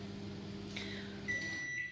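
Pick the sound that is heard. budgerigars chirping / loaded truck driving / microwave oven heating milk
microwave oven heating milk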